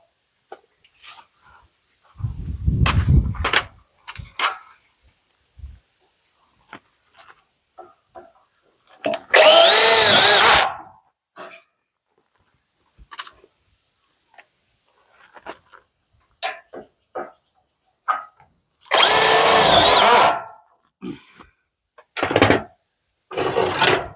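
Two loud bursts of a power drill driving screws, whirring for about a second each, separated by quiet stretches with scattered clicks and handling noises.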